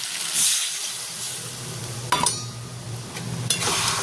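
Water added to a sizzling soybean and potato curry in a pan, a fairly loud continuous hiss with a couple of sharp utensil clinks partway through.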